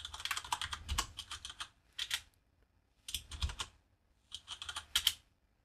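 Typing on a computer keyboard while setting up a Raspberry Pi web server: quick close bursts of key clicks in four separate runs with short silent pauses between them, alone without speech.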